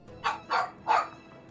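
A man imitates a dog with his voice, giving three short, sharp barks in quick succession, fairly close and alone, during a tabletop role-playing game session.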